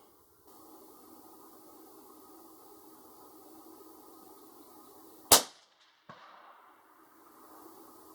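A Ruger American Ranch rifle in 5.56 fires a single sharp, loud shot during sight-in at an outdoor range with a dirt-filled tire backstop, cutting through a quiet background hiss before a brief echoing tail.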